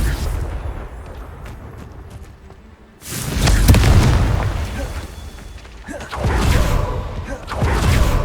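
Two deep, booming Confringo spell explosions from Hogwarts Legacy go off a few seconds apart, each a loud burst that rumbles and rings out, following a quieter stretch with faint clicks.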